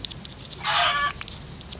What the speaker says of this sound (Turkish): Ah şurada tavuk var öldürelim.